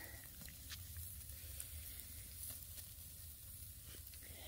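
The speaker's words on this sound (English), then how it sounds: "listen to that sizzle" Steady, soft sizzling and crackle of food frying in a hot pan, continuous and close, with no talking.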